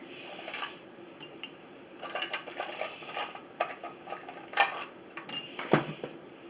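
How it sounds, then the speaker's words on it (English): Garlic cloves and cinnamon sticks drop into glass jars for pickled cactus, making scattered light clinks and taps against the glass. They start sparse, then come in small clusters of close, bright knocks with no talking. "we need to put 2 garlic cloves in each jar. And a 1 cinnamon stick"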